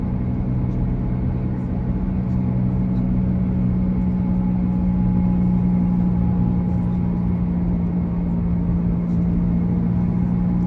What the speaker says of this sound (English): Feel like I got a truck instead of a van. Yeah, the way it sounds.